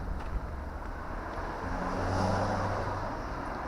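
A busy German street carries a continuous wash of passing cars and traffic noise, with a louder vehicle sweeping by midway and some wind buffeting the microphone.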